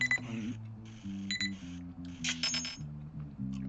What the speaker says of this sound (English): there's my alarm going off